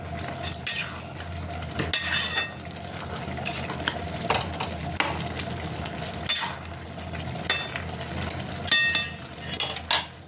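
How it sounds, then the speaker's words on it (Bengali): Tomatoes being mashed and stirred in a cooking pan on the stove, with repeated scraping and clanking of a utensil against the metal and a steady sizzle of frying underneath, close and fairly loud with no talking. "আমি টমেটোগুলো একটু ঘেঁটে দিচ্ছি।"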